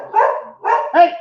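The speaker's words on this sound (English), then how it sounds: "Sorry, my dogs are annoying." Dogs bark indoors at home: three loud, close barks in quick succession, each lasting a fraction of a second, with a brief pause before the last.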